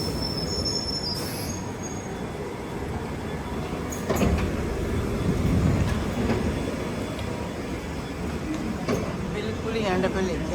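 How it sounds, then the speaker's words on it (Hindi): London Underground Piccadilly line train arriving at Hounslow West station, a close, loud rumble of wheels with high squeals and a hiss of brakes, under light talk on the platform. "ये ले जी, हमारी ट्रेन आ गई और अभी हम जा रहे हैं।"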